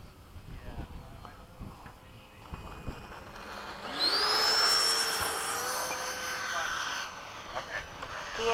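Freewing 80mm F-5 RC jet coming in to land at an airfield, its ducted-fan whine rising sharply into a loud steady rushing tone before easing off, with distant voices talking over it.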